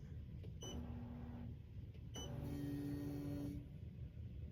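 An embroidery machine stitches a glitter heat-transfer-vinyl reindeer design onto a T-shirt, giving a steady mechanical whir with rhythmic needle chatter and brief clicks and tonal whines, running continuously at close range with no talking.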